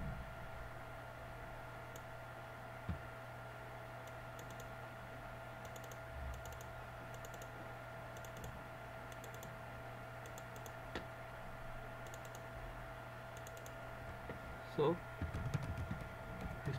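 Keystrokes on a computer keyboard while coding a Laravel web project, soft intermittent clusters of taps against a constant electrical hum, with a louder rustle near the end.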